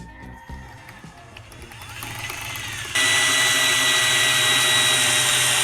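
Power drill running under heavy load, a steady buzzing whine that rises in pitch and intensity partway through, loud and close with no talk.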